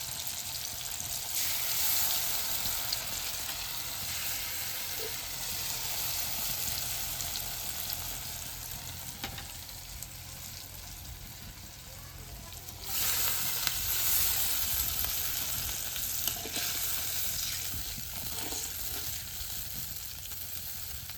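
Mustard sauce for pabda fish sizzles steadily in a pan over a village clay stove, a loud continuous frying hiss with brief stirring and a swell midway, no talking.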